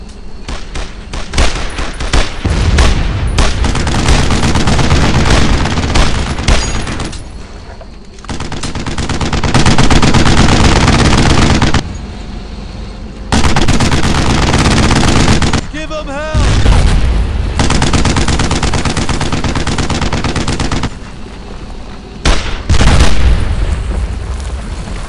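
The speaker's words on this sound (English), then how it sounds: "Move in and keep up the fire!" Heavy gunfire in the WWII shooter Brothers in Arms, set at a château in Hiesville in 1944: loud bursts of machine-gun and rifle fire with booms, broken by brief lulls and shouted voices.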